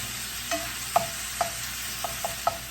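Sausage for breakfast pizza is fried in a pan and broken into small pieces, with a soft steady sizzle under several distinct utensil taps and scrapes spaced about half a second apart.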